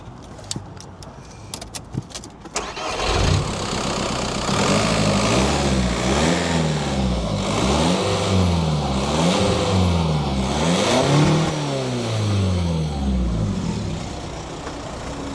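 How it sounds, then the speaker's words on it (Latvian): A newly bought car is started. Keys jangle briefly, then the engine catches and revs loudly and close by in repeated rising and falling waves before settling to a steady run. "Palaist pagāzēt mazliet."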